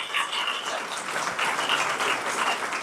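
Steady applause from a crowd at a talent award ceremony in Ayodhya, dense and continuous clapping that fills the whole moment without pause.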